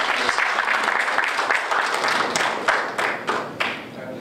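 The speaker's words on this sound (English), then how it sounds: "Can we have a big round of applause?" A big round of applause from a forum audience, dense clapping that starts full and loud, then thins toward the end with a few louder individual claps standing out.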